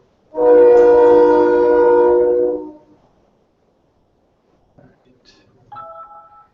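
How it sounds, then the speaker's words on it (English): A passing train sounds one loud, sustained horn blast of about two seconds that cuts off abruptly, followed by near silence and a few faint sounds, with someone talking briefly at the end. "It's a loud train."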